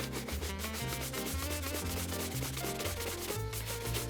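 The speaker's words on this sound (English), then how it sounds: "that brisk, fast buffing is going to be what buffs off that extra polish and then brings those waxes to a nice high shine" Leather shoes being buffed briskly after a coat of cream polish: rapid, rhythmic rubbing strokes, close and steady, sweeping back and forth without pause.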